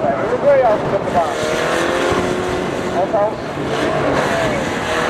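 Race cars at the DD Bangers Christmas-bauble race, engines droning and revving on the track under constant excited commentary and talk.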